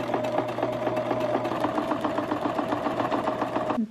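A sewing machine hums steadily with a fast rhythmic needle chatter, stitching a pillowcase dress made from a thrift store sheet, close and alone until it stops abruptly.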